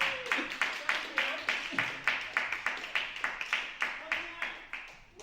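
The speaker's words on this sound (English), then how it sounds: "Let's clap them both up as they come." A crowd at a youth gathering clapping for speakers in a steady, rhythmic beat of evenly spaced claps, moderately loud, with a voice talking over it.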